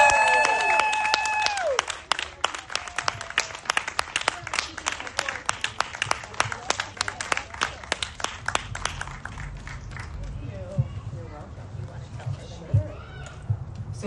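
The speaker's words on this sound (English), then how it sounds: "please stand and give a warm round of applause" A standing audience at a women's political caucus event in Sacramento claps loudly at first, with an electronic tone sweeping through, then the applause thins into scattered claps under murmuring voices.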